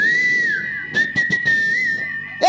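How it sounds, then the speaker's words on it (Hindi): A man whistles a sustained, wavering catcall at a girl during a Chhattisgarhi nacha gammat folk comedy stage show, the steady tone broken by a few short, sharp bursts of noise. "चल सिटी मार मारी के देखता हूँ।"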